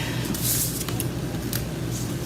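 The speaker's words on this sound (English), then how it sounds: "It's the spray stain." Tim Holtz spray stain misted in short hissing bursts from a small craft spray bottle, close and fairly loud, with a couple of brief puffs standing out over soft background handling noise.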